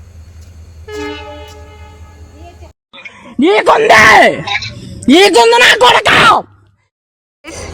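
A train at Shankarpalli railway station sounds a sustained, steady horn near the start, followed by loud, close voices talking over the station noise.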